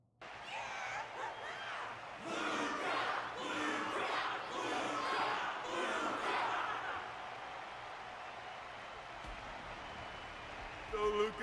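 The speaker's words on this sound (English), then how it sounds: "Their constant applause is a salute to this resilient Belabogian fighter." Arena crowd in the Honkai: Star Rail video game, at a Luminary Wardance fight, roars, cheers and applauds in a dense, steady swell, easing off slightly toward the end.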